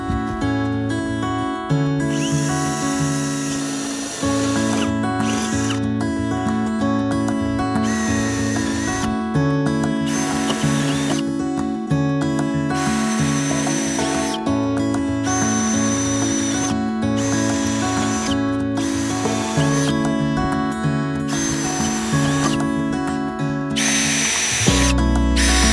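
A power drill works through a metal roof install on an off-grid cabin, whining at a steady motor pitch in repeated bursts with short gaps, close and loud throughout.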